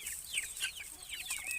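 Chickens and chicks clucking and peeping close by in quick, overlapping high calls against quiet farmyard ambience, with no talking.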